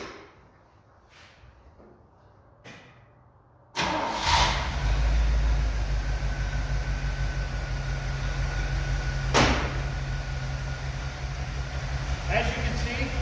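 A 1972 Chevy Blazer junkyard engine with HEI ignition, new plugs and wires, cranks briefly after a few quiet clicks, then catches and settles into a steady, smooth idle close by.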